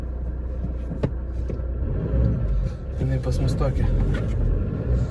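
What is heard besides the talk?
VW Bora TDI car engine, driving in reverse gear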